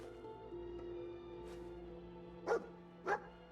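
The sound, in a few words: dog barking in video game Fallout 4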